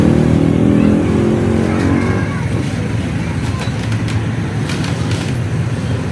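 A Yamaha Mio MXI 125 motorcycle engine runs loud and close, holding a steady droning rev for about two seconds before settling into a rougher, noisier idle-like rumble.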